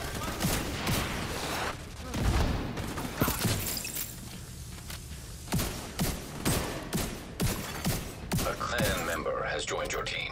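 Bursts of automatic gunfire in The Division 2 crackle in rapid volleys, loud and close, with shouted voices breaking in between the shots.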